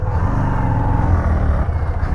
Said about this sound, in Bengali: ওরে ভাই দেখো হুইলি মারছে প্রশান্ত দা